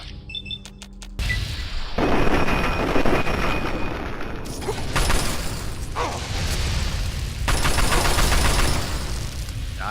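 A loud explosion in Fallout 3 on Xbox bursts out, followed by continuous crackling fire and rapid gunfire-like bangs rumbling on for several seconds.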